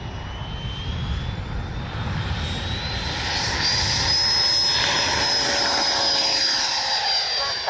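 A Freewing 90mm F-22 RC jet with electric ducted fans spools up for takeoff, producing a loud, steady whine with a rising high tone that grows stronger and holds under broadband air rush, with no voices.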